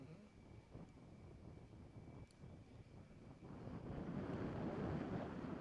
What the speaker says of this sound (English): Seen a steady wind gust now.